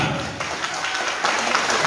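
Guests at an engagement ceremony clap together, a short burst of dense, moderately loud applause that swells slightly toward the end.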